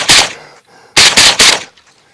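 Suppressed rifle fired at an M72 shoot, one muffled shot followed after a pause by a quick string of three, each a loud sharp crack that decays fast, with no one talking.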